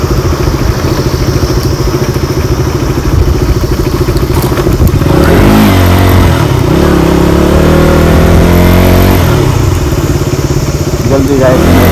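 A KTM Duke 200 motorcycle on a ride, its engine droning loud and steady with shifts in pitch as it revs and changes speed, and wind noise over it throughout.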